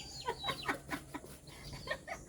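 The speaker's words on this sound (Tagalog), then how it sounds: "Ang daming pantinulang manok niyan, Kuya Nuni, pag lumaki na, No?" Several chickens clucking close by in a steady scatter of short, uneven calls, with faint background noise and no talking.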